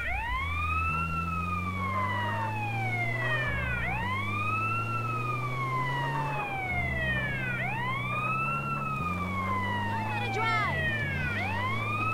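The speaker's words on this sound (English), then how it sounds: "I'm an ambulance, so I'm going to be a bit hectic." A wailing ambulance siren in GTA San Andreas sweeps up and down in repeated cycles over a low engine drone, loud and continuous, with someone talking over it.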